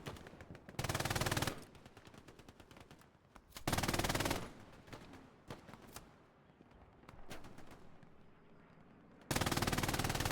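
Machine gun fire from an MG in an online shooter, with loud sustained bursts, several long volleys and shorter rattles near and far, alongside scattered gunshots and softer distant firing between bursts.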